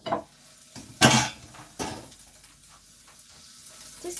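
A nettle omelette slides from a pan with a few sharp clinks of dishes and cutlery, two distinct clatters standing out against a quiet kitchen background.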